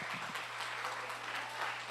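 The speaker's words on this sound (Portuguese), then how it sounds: "Glórias, aplauda Ele bem forte." A church congregation claps softly and continuously in a brief, quiet stretch, with a low steady hum beneath the applause.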